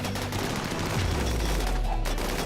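Gunfire from a RimWorld colony battle, a dense continuous fusillade of synthetic game shots rattling steadily through the whole stretch with no talk.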